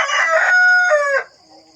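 A rooster crows loudly and close by among farm chickens, one long drawn-out call with strong sustained tones, followed by quieter clucking and faint background.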